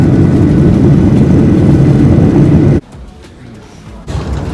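Steady loud engine drone inside an airliner cabin in flight, a continuous low roar that drops away abruptly for about a second and a half before returning.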